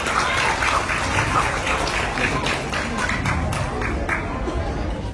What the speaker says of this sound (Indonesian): beri tepuk tangan lagi untuk Kakak Najah